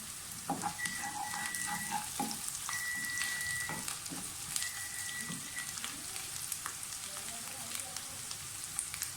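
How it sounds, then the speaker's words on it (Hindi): Green chilies fry with cabbage in a pan, producing a steady crackling sizzle that fills the whole stretch, with faint kitchen clatter and tonal clinks scattered over it. "साथ ही इसमें हरी मिर्च डाल दें।"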